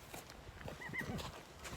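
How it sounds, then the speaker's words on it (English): A hungry horse at morning feed shifts about with soft hoof thuds and gives a short, faint whinny, heard fairly quietly with low background noise. "Oh, the hungriest horse in the world."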